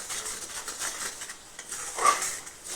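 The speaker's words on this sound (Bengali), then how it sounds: "দিয়ে এবার একটু ভালো করে নেড়ে দিই" Spoon stirring pabda fish curry in a pan, soft scraping and clinking with faint sizzling, close and quiet, no talk.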